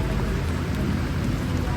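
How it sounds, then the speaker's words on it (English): Heavy rain pours steadily outside a 1988 liveaboard sailboat in October, a dense unbroken hiss of drops close by with no pauses. "Pouring rain here."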